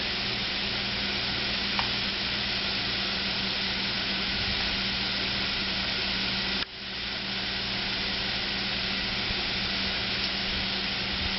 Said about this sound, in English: go ahead and add the quinoa straight to the pan